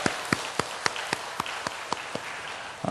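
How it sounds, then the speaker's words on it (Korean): A congregation at a Sunday worship service at a Korean church in Incheon claps in steady unison. The evenly spaced claps ring out over a broad wash of crowd noise. "우리 하나님께 이 아침 영광의 박수를 올려드립니다"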